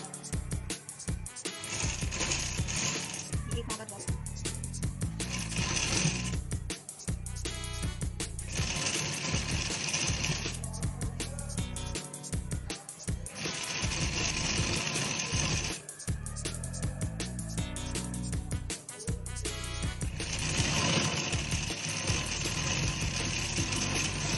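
Sewing machine stitching a one-inch strip of fabric into piping cord, running in long steady bursts with brief pauses between runs, loud and close with no talking.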